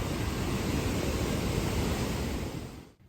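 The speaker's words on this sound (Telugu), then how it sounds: "వాటర్ శబ్దం ఏదైతే ఉంటుందో అది వింటే చాలు అదొక థెరపీ లాగా అనమాట" Water pours down at Akola Waterfall in a dense, continuous roar close by, steady and loud, with no voices, until it cuts off at the end.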